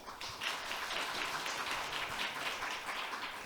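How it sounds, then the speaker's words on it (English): Applause from the audience at a mock IMO general assembly welcomes a presenting team, a steady moderate clapping wash lasting a few seconds without any voices. "Please welcome the team with a big round of applause."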